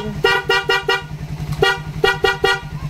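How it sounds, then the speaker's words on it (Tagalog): A Raider 150 motorcycle's loud fullwave dual horn honks in a rapid series of short bursts, two clusters of four or so sharp blasts close by, with an engine idling underneath. "loud horn with passing."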